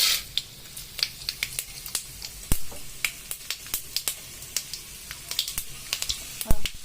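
Mustard seeds, curry leaves and peanuts tempering in three to four tablespoons of hot oil in a kadai, a steady sizzle broken by many sharp, irregular pops and crackles close by.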